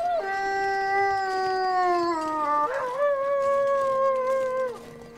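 Wolves in the survival game The Long Dark let out long, wavering howls, one sustained call sliding down and a second rising in, close and clear over a quiet windy backdrop.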